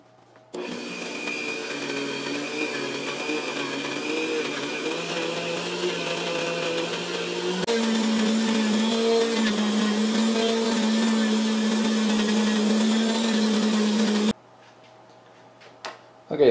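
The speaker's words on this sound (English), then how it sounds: "I've reduced the dirt and the surface rust as much as I can with a little Dremel tool wire wheel" Small Dremel rotary tool with a wire wheel scrubbing dirt and surface rust off metal, a steady high-pitched whine and scratchy hiss running continuously for about fourteen seconds, pitch stepping up partway through, then cutting off abruptly.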